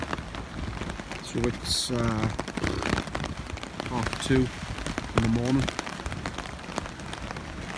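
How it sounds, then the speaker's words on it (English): Rain drums steadily on a hammock camp beside Thirlmere in the Lake District at night, with wind, continuous under someone speaking quietly at intervals. "This rain and wind started about 10 o'clock. It's just got stronger and stronger and stronger."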